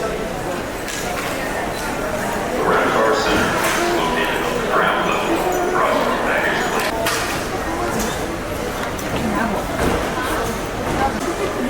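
Dogs at an airport, about to be dropped off for a flight, barking, yipping and whimpering on and off throughout, mixed with people talking and general terminal noise.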